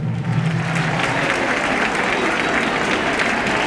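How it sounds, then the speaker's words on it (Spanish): A large outdoor crowd at a Christmas tree lighting in Ourense claps loudly for the local hospitality workers, sustained dense applause with a faint voice briefly audible at the start. "Un aplauso para ellos"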